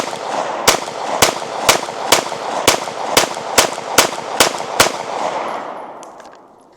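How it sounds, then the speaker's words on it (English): A pistol fitted with a Streamlight TLR-1 HP-X weapon light fires about a dozen sharp, loud shots close by, in a fast and fairly even string, with no talking. "Let's shoot some more."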